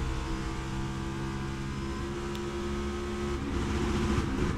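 Race car engine heard from inside a NASCAR stock car in traffic, droning loud and steady with rapid stuttering bursts as it bangs against the rev limiter, a harsh continuous roar throughout.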